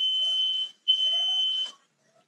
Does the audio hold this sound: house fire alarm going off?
yes